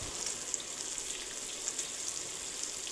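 Chopped onion and green chilli fry in hot oil with a steady, even sizzle and crackle, close and continuous, without any voices.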